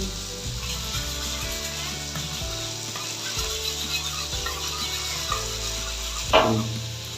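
Egg batter sizzles and crackles loudly as it is poured over brinjal frying in oil, a continuous close frying hiss with stirring clinks throughout.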